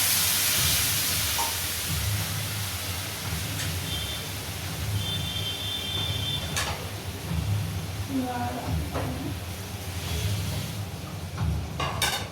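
Water poured into a hot pan while making upma, a steady loud hiss and rush of steam lasting throughout, with someone talking faintly in the background.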